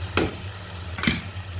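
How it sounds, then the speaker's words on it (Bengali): Tomatoes stir-fried with spices in a pan, two distinct scraping stirs with sizzling bursts over a steady low hum, fairly close and quiet. "মশলার সাথে সুন্দর করে টমেটোগুলো কষিয়ে নেব।"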